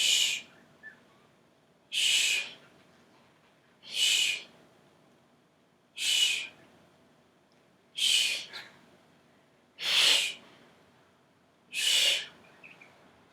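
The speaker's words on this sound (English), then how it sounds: "those little, tiny little clucks and chirps" A pet bird's soft, breathy clucks and chirps repeat about every two seconds, each a short airy chirp, close and fairly quiet with near silence between.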